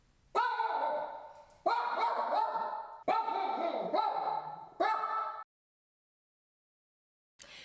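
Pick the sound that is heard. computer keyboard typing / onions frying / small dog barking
small dog barking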